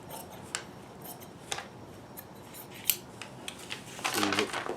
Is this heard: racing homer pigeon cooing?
no